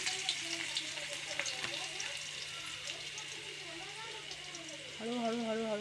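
Garlic frying in a hot pan gives a soft, continuous sizzle beneath talking voices, and a voice rises near the end.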